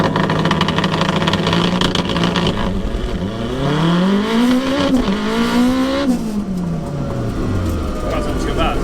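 A turbocharged all-wheel-drive Honda DC5 Integra Type R with a sequential gearbox launches hard from low boost, its engine rising sharply through several climbing revs and shifts, loud and close inside the cabin.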